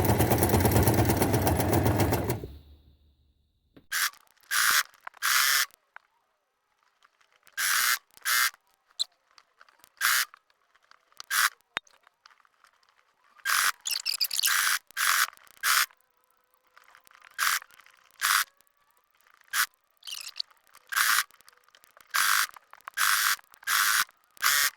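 A sewing machine stitches fabric scraps in short, rapid mechanical bursts separated by quiet pauses, following an opening rush of loud noise.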